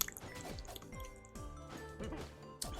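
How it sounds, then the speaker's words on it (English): A streamer taking gulps of water: a run of soft, close wet swallowing and dripping sounds repeating at a steady rhythm of roughly two per second, with faint game music behind. "Let me drink some water."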